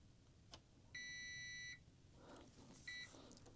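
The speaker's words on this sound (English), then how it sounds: "The buzzer is much more muted now, which is great." Goldenmate LiFePO4 UPS buzzer sounding on power-up: a steady electronic beep held for nearly a second, followed by a shorter, fainter second beep over low background hum.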